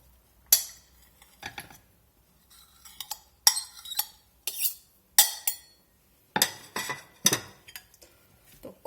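Cowboy caviar salad with avocado being tossed in a bowl: a series of irregular clinks and scrapes of a utensil against the dish, close and fairly quiet, in short bursts with pauses between.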